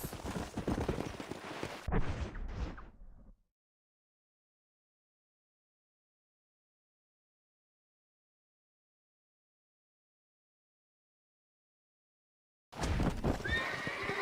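A horse whinnies loudly with hoofbeats and game-like effects in Red Dead Redemption, then long silence before the busy sounds return near the end.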